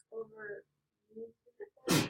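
A single sharp sneeze bursts out right after a few brief spoken words.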